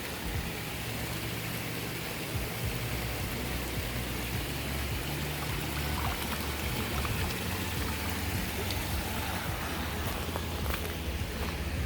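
Water pours steadily over newly planted pond plants in a food forest garden, a continuous splashing rush that runs the whole time without talk.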